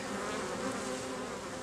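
Honey bees buzz steadily inside an open hive during an inspection of a newly mated queen in a split, a dense, continuous close hum with no talk.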